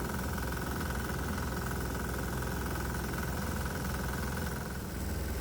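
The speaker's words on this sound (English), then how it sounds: "the engine's been running for a few minutes now" A diesel engine fitted with a vaporizer runs steadily at a constant idle, a dense low rumble with a knocking throb that never changes.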